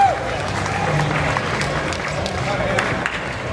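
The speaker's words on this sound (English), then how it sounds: "That deserves a round of applause" Crowd applause at an IPF powerlifting squat competition for a one-legged lifter with 205 kilos on his back, sustained dense clapping mixed with cheering and loud arena chatter throughout.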